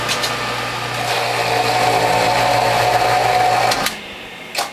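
A Whole Health Foundation front-loading juicer runs steadily with a loud, continuous motor whine and grinding hum, then cuts off abruptly near the end, leaving brief clatter.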